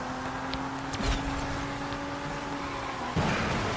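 A Ford GT's engine roars steadily at full speed, over 360 km/h, in the video game Phantom Squad, a loud sustained drone with a steady whine and a brief bump near the end.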